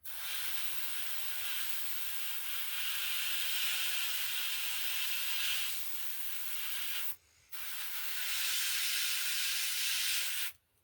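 Airbrush spraying paint onto a blank latex Leatherface mask from Texas Chainsaw Massacre (2003), a steady close hiss of compressed air held for long stretches and cut off abruptly twice.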